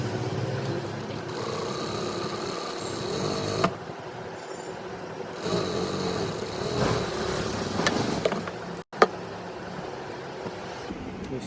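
An electric sewing machine stitches lining panels for a lehenga in continuous runs. It whirs steadily, stops briefly, starts again, and ends with a short click.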